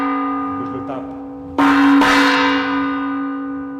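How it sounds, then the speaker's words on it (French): A gong struck twice in quick succession, the second hit landing as the first still rings, each producing a bright metallic crash that settles into a long, sustained tonal shimmer decaying slowly. "La note de ce gong"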